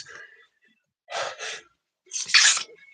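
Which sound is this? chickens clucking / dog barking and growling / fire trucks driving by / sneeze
sneeze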